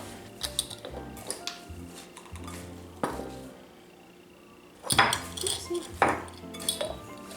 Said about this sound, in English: Just stir it all up.